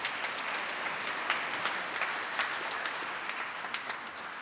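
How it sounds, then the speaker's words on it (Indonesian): Congregation applause in a church during an inculturation Mass, moderately faint and sustained, with a scattered, crisp texture of many hands clapping at a distance. "Tepuk tangan untuk kita semua."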